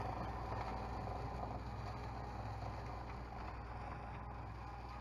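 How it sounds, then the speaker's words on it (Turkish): A 2006 Tümosan 8580 tractor of 85 horsepower runs in a field, a steady low mechanical drone with rattling, clanking machinery layered over it, constant and fairly quiet throughout. "Bu arada traktörümüz 85'lik Timosan 2006 model"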